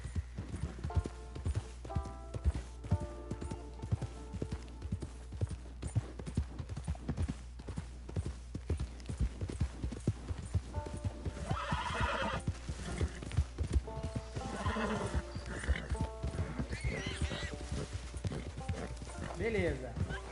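Horse hooves clip-clop in rapid, regular galloping beats throughout in the video game Red Dead Redemption 2, with neighs and whinnies breaking in, loud and close, while voices talk over it for much of the time.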